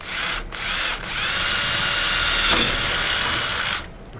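A power drill bores through metal to make a hole for a pop rivet, a loud, close, continuous grinding whine that holds steady for nearly four seconds with brief dips near the start, then stops. No one speaks.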